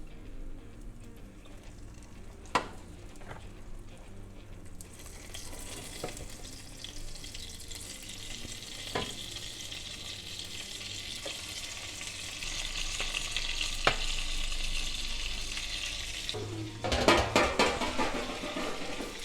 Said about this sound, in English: Now it's time to add our roasted tomatoes